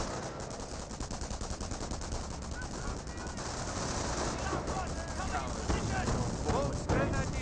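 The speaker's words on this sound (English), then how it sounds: "Both grenadiers under fire!" Rapid machine gun bursts and gunfire from the WWII strategy game Company of Heroes, dense and continuous throughout, with scattered impacts and a commentator's voice mixed underneath.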